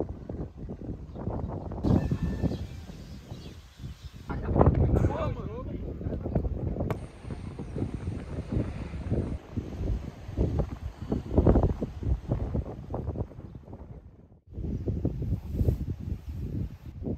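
Strong offshore wind at the beach roars and buffets the microphone in loud, gusty waves, with people talking over it throughout.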